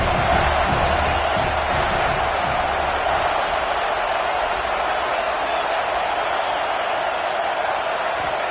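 A big football stadium crowd at an Alabama game keeps up a dense, continuous roar of cheering and noise, loud and even throughout with no clear breaks.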